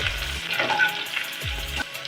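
Chopped garlic frying in hot oil left over from frying chicken for dry chili chicken, a steady close sizzle with light stirring scrapes, continuous and alone.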